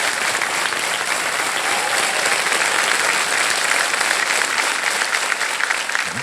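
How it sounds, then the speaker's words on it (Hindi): Studio audience on the KBC quiz show applauding a contestant: loud, dense, sustained clapping that fills the whole stretch at a steady level. "एक बार तालियां बज जाए उनके लिए।"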